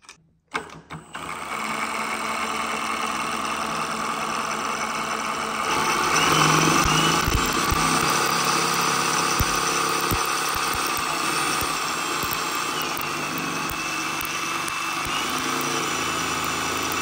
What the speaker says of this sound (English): So the drill's just mimicking the engine spinning